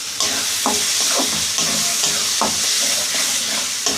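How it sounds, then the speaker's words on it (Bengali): A spice paste with chili powder, green chilies and turmeric frying in a pan for a country chicken and new potato curry, a close steady sizzle broken by several scraping stirs of a spoon, with no talk. "আর পরিমাণ মতো হলুদ দিয়ে ভালো করে মশলাটা আগে আমি কষিয়ে নিই।"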